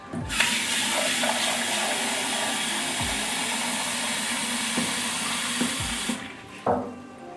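Steady rush of running hot water fills the clip, with a few clinks and knocks of metal as it is swilled around a chocolate pan.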